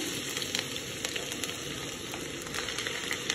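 Onions sizzle and fry in hot oil in a pan for a cabbage bhaji, a steady, close crackling hiss with small pops and no talking.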